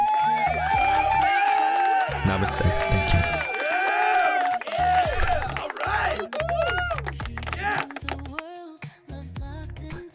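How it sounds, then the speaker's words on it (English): Canned applause and cheering from a crowd play loudly during a crypto livestream, with someone talking briefly over the clapping and whoops. "And we give hand claps."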